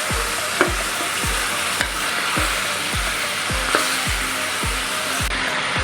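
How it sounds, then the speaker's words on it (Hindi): Meat fries steadily in hot ghee with a dense, continuous sizzle, while a utensil scrapes and stirs the pan in a regular rhythm close up. "उतनी देर हमने इसको ऐसे ही घी में फ्राई करना है"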